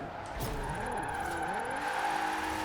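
A steady car engine drone with rising and falling pitch, tires faintly squealing, continuous throughout with no pauses, from a drift-built car in the video game Forza Horizon 4.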